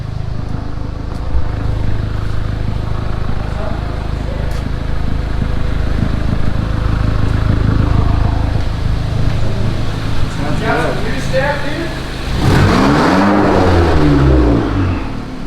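A straight-piped Volkswagen MK7 GTI with a catless CTS Turbo downpipe, its engine idling loud and rumbling in a garage, then revving harder near the end, with voices talking over it.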